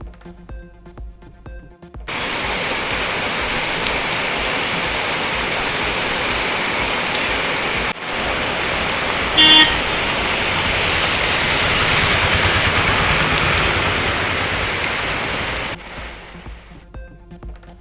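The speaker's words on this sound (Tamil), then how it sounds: "தமிழகத்தின் பல்வேறு மாவட்டங்களில் வெளுத்து வாங்கிய கோடை மழை." Heavy summer rain pouring down, a dense, loud, steady roar of drops that starts abruptly, continues for most of the stretch and cuts off near the end, with no talk.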